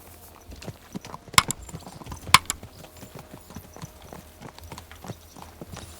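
Horse hooves clip-clop at a steady riding pace in Kingdom Come Deliverance 2, with a few sharper hoof strikes standing out, quiet and fairly close with no speech.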